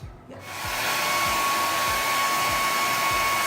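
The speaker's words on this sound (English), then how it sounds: "Revlon hair dryer. I have had this thing for years" A Revlon hair dryer clicks on and blows with a steady, loud, close-up rushing whoosh and a faint whine that holds constant after the start.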